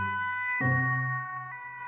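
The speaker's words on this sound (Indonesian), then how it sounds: "Wadidaw, mobil ambulan." An ambulance siren sounds close and loud, a steady tonal wail with a sharp shift in pitch partway through, heard alone without talk.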